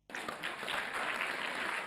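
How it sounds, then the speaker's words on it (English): Audience applause during a live economics debate: a brief, fairly quiet burst of clapping that starts abruptly and holds steady for a couple of seconds, with no talk over it. "we can cut the applause for now until we finish the conversation"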